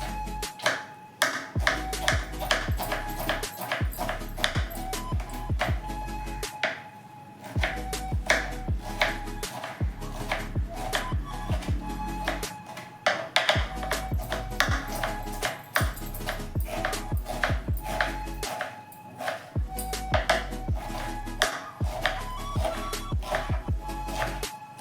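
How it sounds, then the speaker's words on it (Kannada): A knife chops a thick tomato finely on a cutting board, giving steady rapid taps in bursts with short pauses, close and fairly loud with no talking. "ಒಂದು ದಪ್ಪದು ಟೊಮೊಟೊ ತೊಗೊಂಡಿದ್ದೀನಿ. ಇದನ್ನು ಅಷ್ಟೇ ಸ್ವಲ್ಪ ಸಣ್ಣಕ್ಕೆ ಹೆಚ್ಕೋಬೇಕು."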